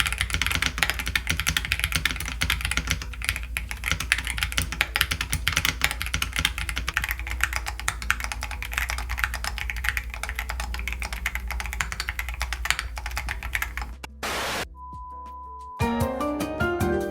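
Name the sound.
typing test on Keychron Q14 Max keyboard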